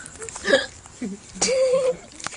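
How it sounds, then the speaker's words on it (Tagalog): Hiccups from a person at a casual drinking get-together, a few short abrupt gulps spaced across a couple of seconds, close and fairly loud with background chatter. "may sinok."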